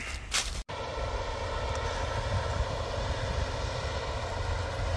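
A tractor idling in a field gives a steady low engine drone throughout, moderately loud and continuous, after a brief noisy burst at the start.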